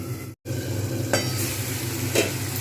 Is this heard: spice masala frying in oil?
yes